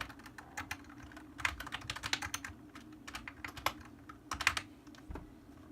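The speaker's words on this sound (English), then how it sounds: "I'll simply type in the username and the password of a user" Irregular bursts of fast keystrokes on a computer keyboard while entering a username and password, close and clear, pausing briefly between words, with no talking.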